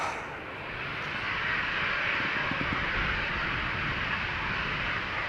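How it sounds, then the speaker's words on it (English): A Ryanair Boeing 737-800 departs Amsterdam Schiphol, a broad jet roar that swells within the first second and then holds loud and steady, heard from an outdoor spotting position. "here is a Ryanair flight 421 737-800 outbound to Dublin, 15 years old, first flight September 2007"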